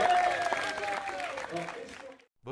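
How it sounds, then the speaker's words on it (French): Applause from a crowd at a 2023 anniversary celebration in France fills most of the stretch, dense and fairly loud, with voices and a whistled or sung tone riding over it before it fades to near silence at the end. "Et on nous applaudit très fort."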